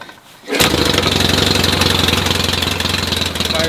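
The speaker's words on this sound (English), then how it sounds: "So what we're going to do is kickstart it instead of using the electric start." A 1975 Yamaha XS650 motorcycle engine catches after a kickstart and settles straight into a loud, close, steady idle with an even pulsing beat.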